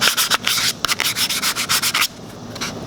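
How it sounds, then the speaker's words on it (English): Sandpaper rubs back and forth over dried glue on a homemade comic book frame in quick, rhythmic scratchy strokes, close and loud, for about two seconds before stopping, leaving a quieter hiss. "You can see right here when I'm sanding."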